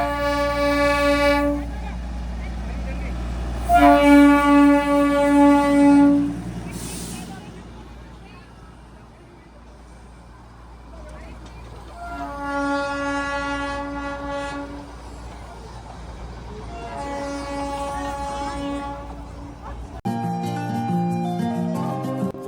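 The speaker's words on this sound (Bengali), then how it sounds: "এটি মূলত একটি বিশাল রেলওয়ে লুপ, যেখানে টয় ট্রেন 360 ডিগ্রি ঘুরে পাহাড়ের নিচে নেমে যায়।" Darjeeling toy train running on its hillside railway loop, its horn sounding in several loud, drawn-out blasts over a steady rumble of the train and open-air background noise.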